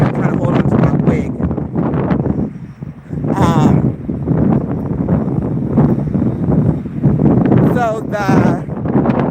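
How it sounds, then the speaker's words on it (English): Heavy wind buffeting a microphone outdoors during a walk-a-thon in Chicago, a loud continuous roaring rumble with gusts, while someone talks over it. "It's really windy."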